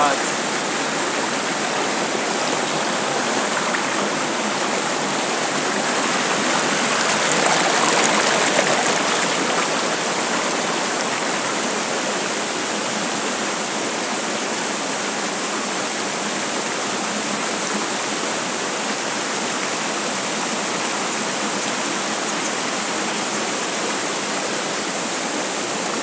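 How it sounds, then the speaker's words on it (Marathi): A waterfall in Nigeria rushes with a constant, dense roar of falling water, loud and unbroken, swelling slightly for a moment before settling back to a steady wash. "मित्रांनो पहा वॉटरफॉल."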